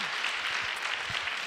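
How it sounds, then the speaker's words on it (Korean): Church congregation applauding, a brief dense wash of clapping heard at a moderate distance, steady and even throughout without any voices over it. "좋으면 박수 한번 해봐."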